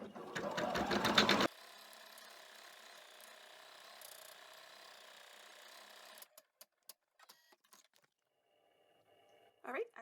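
An embroidery machine sews a placement stitch for a vinyl snap-tab key fob, a fast even whir close by after a brief voice, then it stops and scattered clicks and handling sounds follow.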